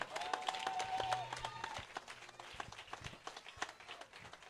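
A church congregation applauding for Jesus Christ during a service, scattered, uneven clapping from many hands with some cheering and voices mixed in, fairly faint and sustained throughout.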